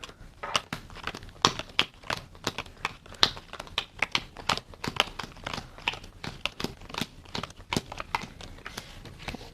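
Playing cards are handled and counted at a table, giving a steady run of crisp flicks and snaps as each card is laid down, close and fairly quiet, with no talking.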